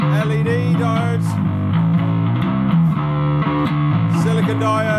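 Bass guitar played through a tube overdrive pedal prototype switched to LED clipping diodes, giving a loud, steady, distorted bass line of sustained notes with no talking.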